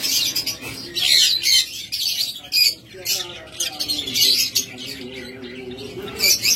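Lutino opaline parrots kept as pet birds for sale squawk and chirp in shrill, overlapping bursts close by, busy and fairly loud, while a person talks over the calls throughout.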